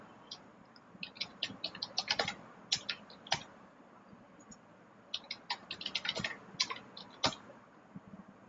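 A new password being typed on a computer keyboard, with bursts of quick light key clicks separated by short pauses, close and fairly quiet.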